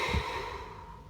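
A single deep breath, drawn in and let out slowly as a soft, close sigh with no talking.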